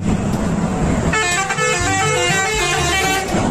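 A vehicle horn honks repeatedly over steady engine and traffic noise, loud and close, with a bus-like drone underneath.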